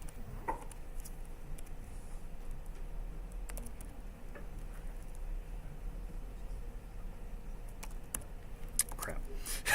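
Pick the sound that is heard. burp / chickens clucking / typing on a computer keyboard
typing on a computer keyboard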